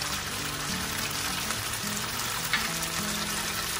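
Steady sizzling as soy sauce hits a hot stir-fry of cucumber, black fungus and chicken, a continuous moderate hiss close by, with no talking.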